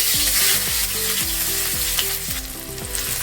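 Sliced onions sizzle steadily in hot oil with fennel seeds for a mint kurma, while a spoon scrapes the pan in a repeated rhythm of stirring strokes. The sound is close and continuous, with no talking.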